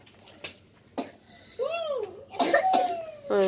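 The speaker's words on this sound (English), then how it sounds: "Coughing too much." A person coughs several times in short separate bursts, with a voice and some laughter-like sounds around them, indoors on New Year night after dinner.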